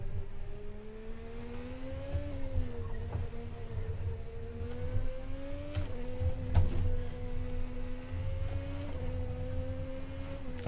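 A simulated racing car in RaceRoom, lapping Mid Ohio's chicane, holds a steady engine drone with gear shifts and pitch steps through the run, heard alone at moderate, even loudness.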